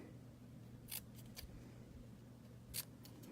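Scissors snip through card stock during card making, a few short crisp cuts in quiet surroundings with a faint steady background hum.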